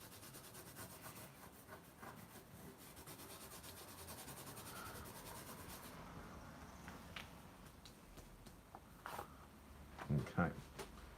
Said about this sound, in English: I can now just go around and just rub this in a little bit more, just to burnish it in